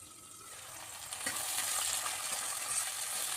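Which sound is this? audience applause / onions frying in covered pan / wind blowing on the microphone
onions frying in covered pan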